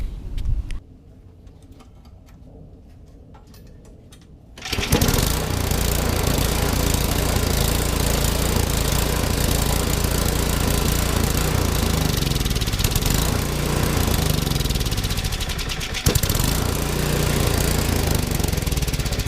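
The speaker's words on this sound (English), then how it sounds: "It should start to sputter and die because there's too much choke." After a quieter idle, a Yard Machines snowblower engine with an intake leak roars up loud and close, running hard and unevenly with a rough, knocking tone and a brief stumble near the end.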